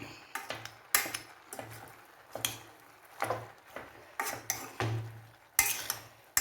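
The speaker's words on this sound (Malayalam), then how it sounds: "ഇനി നമുക്കിതിലേക്ക് പാകത്തിന് ഉപ്പിട്ടിട്ട് ഒന്നും കൂടെ ഇളക്കാം" Pork curry being stirred in a pot after salt goes in, with a utensil scraping and clinking against the pan in short irregular strokes, close and fairly quiet.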